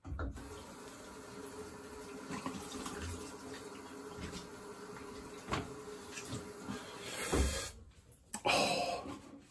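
Tap water runs steadily into a sink while a razor is rinsed, a close, quiet splashing stream that ends in a few clattering knocks near the end.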